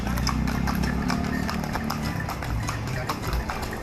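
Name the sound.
horse-drawn carriage (delman) clip-clopping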